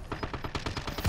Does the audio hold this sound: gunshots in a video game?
yes